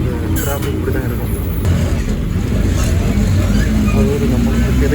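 Road traffic rumbles around an APSRTC bus travelling from Chennai to Tirupati, a continuous low engine and road drone with passing vehicle noise, while someone talks over it throughout.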